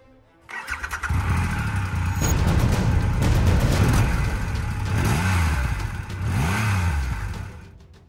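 A motorbike engine fires up and revs hard, rising and falling in pitch as it accelerates away. The close engine is loud and steady for several seconds, then fades at the end.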